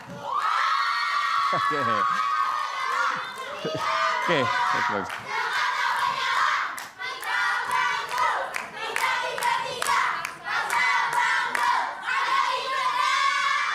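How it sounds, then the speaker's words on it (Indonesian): A debate-hall crowd applauds and cheers for three Jakarta gubernatorial candidates, the clapping and shouts mixing under a host's voice and ringing tones. "kita berikan tepuk tangan untuk ketiga calon"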